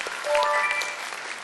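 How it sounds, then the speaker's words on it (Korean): Brief applause from high school students at Bopyeong High School for a classmate during a quiz show, short and moderately loud, with faint tonal pings from the setting over the clapping. "박수 한번 부탁드릴게요."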